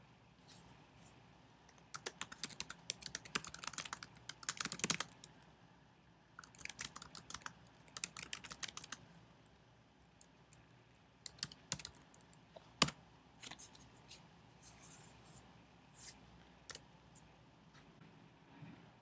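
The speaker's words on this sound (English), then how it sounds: "Go ahead and hit enter or return, and you could begin writing a document." Typing on a computer keyboard while writing a document in Google Docs, with bursts of quick keystrokes separated by pauses and a few sharper single key clicks, close and fairly quiet with no talking.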